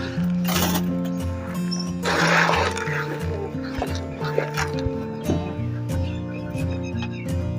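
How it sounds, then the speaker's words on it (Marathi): Goats on a farm bleat loudly for food at feeding time, with several overlapping, wavering cries near the listener and a human voice mixed in. "चला आमच्या शेळ्या कशा बघतात बघा, खाण्यासाठी ओरडायला लागल्यात"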